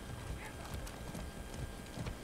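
Horse hooves clip-clop in a quick, steady rhythm as a horse is ridden in the video game Far Cry 6, close and clear against a noisy game background.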